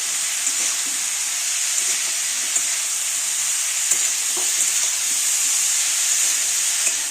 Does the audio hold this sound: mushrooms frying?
yes